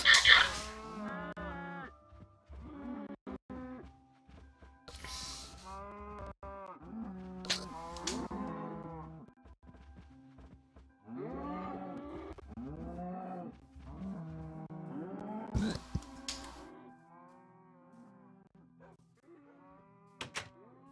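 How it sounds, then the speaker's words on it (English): Cows mooing in the Minecraft video game, a series of loud, drawn-out synthetic moos and lowing calls repeating irregularly, close up, with no talk over them. "I always like watching these cows glitch out"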